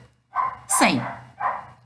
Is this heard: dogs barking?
yes